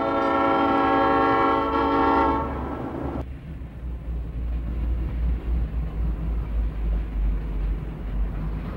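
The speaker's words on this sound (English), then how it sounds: "Once out on the desert, this train will more than make up for any dawdling here." A Santa Fe passenger train running through desert country, its horn sounding a loud harmonic chord for the first two to three seconds, then cutting off to leave the steady rumble and roar of the passing train.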